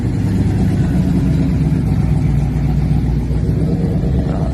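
A Hemi-engined pickup truck rumbles steadily and loudly close by at a hot rod car tour, a deep continuous drone with no break and no voices.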